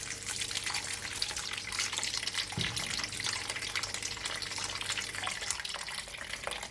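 Jamaican ginger sorrel drink being strained, a steady liquid trickle and splash running continuously at moderate level with no talk.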